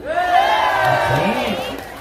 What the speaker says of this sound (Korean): 함성소리